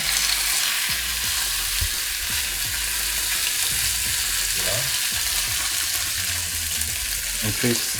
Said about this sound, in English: it's very good to make sure your pan is hot so that you can sear the meat